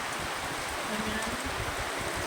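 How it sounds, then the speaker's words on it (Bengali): Steady rain hisses continuously at an even, moderate level, with no other distinct sounds. "বৃষ্টি হয়েই যাচ্ছে।"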